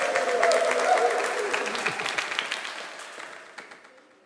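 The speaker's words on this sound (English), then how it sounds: "give a massive round of applause and warm welcome to my" An audience at a church nativity service claps in a warm welcome, dense applause that starts full and gradually thins out and fades to silence.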